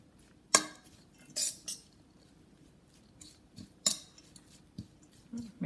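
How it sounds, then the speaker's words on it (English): Chopped vegetables for chai pakoras stirred together in a bowl, giving a few sharp scattered clinks and scrapes of a utensil against the bowl with quiet pauses between. "So now let's start mixing all these vegetables."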